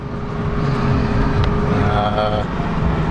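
Steady engine rumble and road noise from inside a moving pickup truck, a constant low drone with no talking over it.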